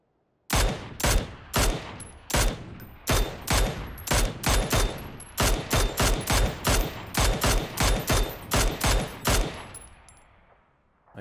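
Gunfight in the PUBG video game on Xbox One: a long run of loud, evenly spaced shots, close and alone, fading into a ringing tail at the end.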